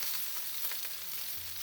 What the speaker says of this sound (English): And we're going to add the ginger and garlic now, and the green chilies. And just fry it for a minute